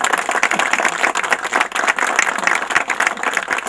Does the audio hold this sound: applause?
yes